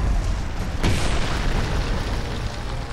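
A deep booming bomb blast in Gears of War 3 bursts out suddenly and loud over a continuous rumbling battle background, fading into a lingering roar.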